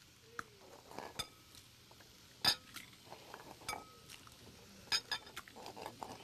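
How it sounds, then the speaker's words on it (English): Eggs cracked into a bowl in a TV studio kitchen, heard as scattered light clinks and taps of shell against the bowl rim, fairly faint and spaced out, with soft liquid sounds between them. "now what we're going to do now is we're going to crack some eggs"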